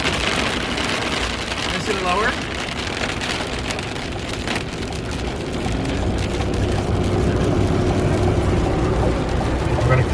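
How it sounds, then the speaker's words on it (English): Heavy rain pours during a massive storm with flash flooding, a dense steady hiss of drops hammering surfaces close by, with a vehicle engine rumbling underneath and someone speaking briefly. "It's raining so much harder right here."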